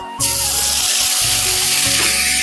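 Onion paste hitting hot oil tempered with bay leaf, whole garam masala, cumin and dried chilli for a Bengali doi katla, bursting into a loud, steady, close hiss that holds without a break.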